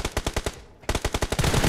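Rapid bursts of automatic gunfire in Battlegrounds Mobile India, loud and close, rattle in a steady rhythm with a brief pause before resuming.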